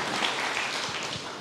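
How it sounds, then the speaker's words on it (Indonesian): A church congregation applauds during a sermon, a dense, steady wash of clapping heard for a short stretch. "Berikan tepuk tangan yang meriah"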